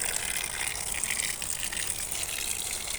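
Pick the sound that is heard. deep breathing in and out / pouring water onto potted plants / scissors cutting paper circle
pouring water onto potted plants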